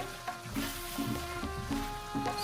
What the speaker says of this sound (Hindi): काजू भी इसमें डाल दिए, जो कि घी के साथ में इसको भून जाएंगे